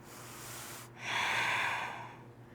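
A single long exhale during a yoga breathing exercise, a soft airy rush that swells after a brief pause and then fades, close and alone with no talking.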